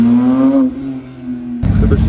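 A Porsche GT3 Touring drives past on a Zürich street, its engine a steady, close drone with a rising and falling tone that turns into a louder, rougher burst near the end.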